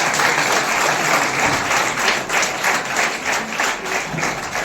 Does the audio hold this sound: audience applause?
yes